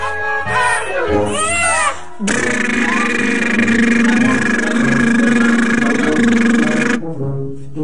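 A father imitating a machine engine with his voice to a baby lying in his lap: brief vocal sounds, then a loud, steady rumbling drone held for about five seconds before trailing off.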